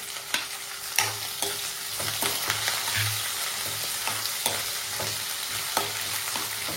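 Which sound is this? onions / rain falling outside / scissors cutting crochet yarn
onions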